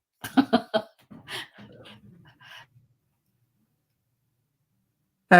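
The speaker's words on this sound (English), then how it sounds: "The dog's starting to act up." A dog acts up in the background of a podcast recording, giving a few quick barks and whimpering noises in the first seconds, then falling quiet.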